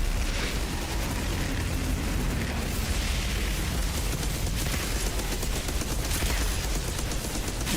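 Dense, unbroken weapon fire and explosions from the shooter video game Outriders form a loud, roaring barrage that lasts the whole stretch, with no speech over it.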